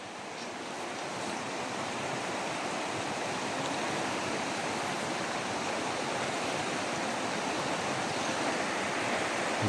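Heavy floodwater rushes steadily around a house being submerged, a dense continuous roar that builds slightly louder toward the end, with no voices.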